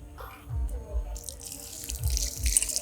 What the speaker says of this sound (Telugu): ఫటాఫట్ ఈ చికెన్ అయితే కడిగేసుకుందాం